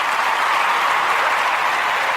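Audience applause welcoming actor Amir onto the stage of a talk show, a steady dense wash of clapping from a crowd that stays loud and even throughout.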